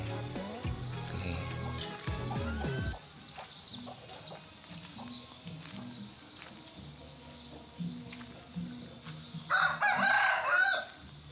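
Village chickens and a rooster around a house in the early morning, clucking near and far, with a loud crow bursting out toward the end.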